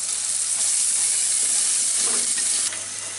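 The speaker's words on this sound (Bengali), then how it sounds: "এখন আমি পেঁয়াজটাকে একটু নরম করে নিব" Onions sizzle steadily in hot oil while being softened for shahi pilaf, with a loud, close, continuous frying hiss and faint stirring throughout.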